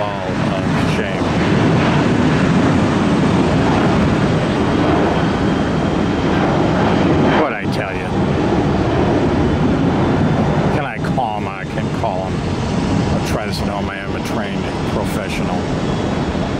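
A Southwest Airlines airliner takes off at Tampa, its engines making a loud, steady roar that holds close and strong throughout, with a few brief clicks and a voice speaking over it.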